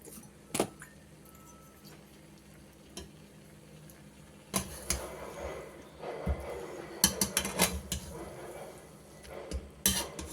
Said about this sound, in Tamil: நல்லா பரோட்டாவை எடுத்து நல்லா கிளறி போட்டுக்கணும்.